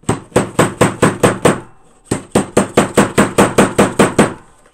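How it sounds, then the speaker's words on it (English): Hammer blows setting snaps on a fabric placemat tote, two close bursts of rapid, evenly spaced sharp metallic strikes, about seven then eleven, separated by a short pause. "I'm going to take my chunky hammer."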